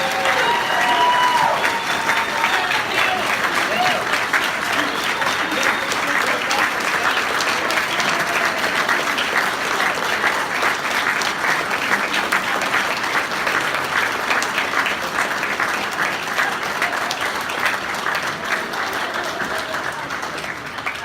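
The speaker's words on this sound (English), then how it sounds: "Ladies and gentlemen, another round of applause for our newest senior non-commissioned officers." Loud, sustained applause from a large crowd at a military senior NCO induction ceremony, dense steady clapping with scattered cheers running throughout.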